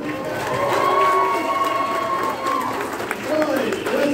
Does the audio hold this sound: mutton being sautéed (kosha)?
no